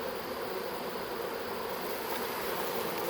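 A swarm of honey bees, shaken off a rake so they rain down onto a person, hums in a dense, steady buzz right up close, continuous and loud for the whole stretch with no voices over it.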